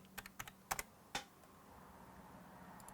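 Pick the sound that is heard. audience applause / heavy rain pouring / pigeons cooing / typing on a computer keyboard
typing on a computer keyboard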